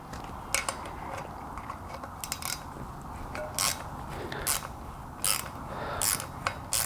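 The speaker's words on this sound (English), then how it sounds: "I like to use a ratchet wrench just because it makes stuff a little bit easier." A ratchet wrench loosens the rim lock nut on a motocross wheel, giving close, crisp bursts of ratcheting clicks in short, uneven strokes with pauses between them and no talking.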